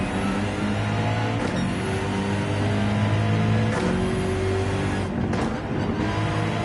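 Gran Turismo 7 race car lapping Watkins Glen: a steady, loud engine drone with shifting pitch runs throughout, joined by bursts of tire noise and brief louder surges, with no talking.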